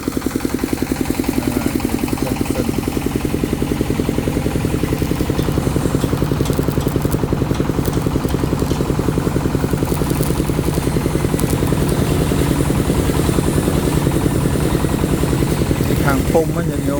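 A generator engine at a temple runs steadily while being checked, a loud continuous close drone with an even, pulsing beat throughout, talk heard over it.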